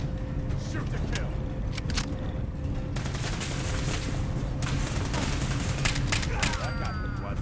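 Gunfire in Fallout 4, a continuous crackle of shots with sharp individual reports in the mix and a voice speaking over part of it.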